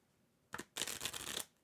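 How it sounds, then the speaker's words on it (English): A deck of playing cards shuffled during a Root board game session: a short riffle burst followed by a longer continuous flutter of cards, fairly quiet and close, with no talk over it. "We definitely know Jordo's shuffling."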